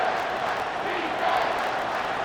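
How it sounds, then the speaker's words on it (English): Dense stadium crowd roar from the College Football 25 video game during a Marshall vs Ohio State matchup on third down, a steady loud wash of noise filling the whole clip with no clear pauses. "this crowd is tearing the lid off this place"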